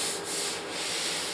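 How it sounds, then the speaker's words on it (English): Steady abrasive sanding of body filler on a 1964 Impala fender, a continuous rough rubbing with slight surges as the paper strokes back and forth, close up. "I still got to sand some of this off here."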